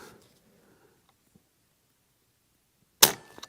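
A single sharp crack from a Niksan Escalade T .22 caliber air rifle after a near-silent pause, followed by faint mechanical clicks.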